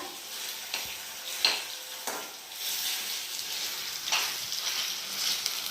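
Sabudana khichdi with peanut powder being stirred in a pan, a soft continuous scraping and sizzling with a few light spoon taps, fairly quiet throughout.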